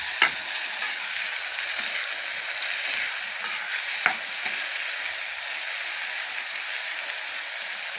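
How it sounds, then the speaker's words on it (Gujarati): Tomatoes cooking in a pan of Gujarati kantola (spiny gourd) curry, giving a steady, even sizzle with two brief sharp clicks from a utensil, close and with no talking. "ચાલો મિત્રો અમે નાખી દીધા છે હવે ટમેટા।"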